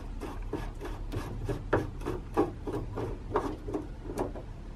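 A stern gland grease tube being unscrewed on a boat, giving a steady series of rhythmic rubbing, rasping turns, about eight to ten scrapes, close and fairly quiet with no talking.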